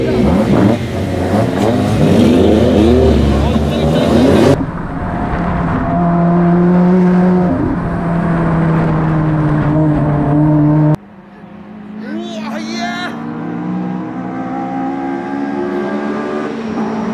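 Tuned Toyota 86 cars from Blitz and Vart running hard on a Japanese mountain pass, engines revving and howling loudly up and down through several cuts, with brief talk between the runs.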